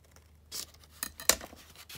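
Scissors snip through paper in a few quick, close cuts, with a couple of soft crisp swishes and then one sharper snip, while paper is cut to make an envelope.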